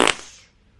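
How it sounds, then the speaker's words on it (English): A short burst from a fart spray prank product, one loud raspy spurt at the start that fades away over under a second, close up with no talk. "I am doing the fart prank today. I ordered something deadly."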